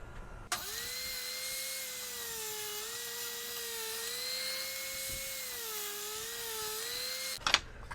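A table saw rips scrap wood into 1.25-inch strips, a steady whining cut that starts abruptly, holds with slight pitch wavers for about seven seconds, then ends with a short clatter.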